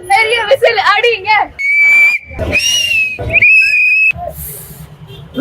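Piercing whistles blown loudly for Chennai Super Kings during an IPL cricket match watchalong, several shrill sustained blasts in quick succession, mixed with excited shouting voices.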